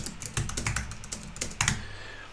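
A few computer keyboard keys pressed in quick succession for a shortcut on a Mac, close and crisp clicks in two small clusters with a short pause between.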